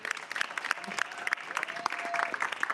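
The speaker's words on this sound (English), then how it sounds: "Give a round of applause again." A crowd applauds after a debate, brisk clapping from a modest audience with some voices and cheers mixed in, moderately loud and continuous.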